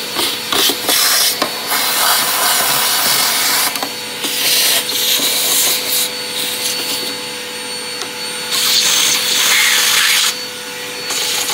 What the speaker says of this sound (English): Up, it's straining this motor so bad I need to get a new filter for that.